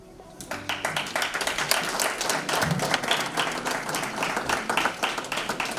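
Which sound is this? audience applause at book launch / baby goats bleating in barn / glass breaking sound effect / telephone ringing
audience applause at book launch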